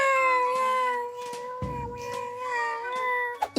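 A woman imitates her cat with a drawn-out, wavering vocal meow, followed by a brief quiet stretch and a couple of short sounds at the end.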